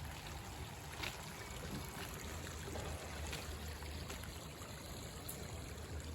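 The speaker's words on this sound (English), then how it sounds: "Here's the stream feeding the dream pond." Water trickling and burbling steadily along a small DIY garden stream feeding a pond, a continuous soft outdoor wash heard close by with no talk.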